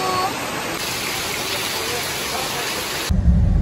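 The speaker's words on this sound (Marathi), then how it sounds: "आणि ते भरपूर पाऊस पडतोय" Heavy rain pours steadily as a dense, even hiss that fills the scene for about three seconds and then cuts off abruptly into a louder low rumble.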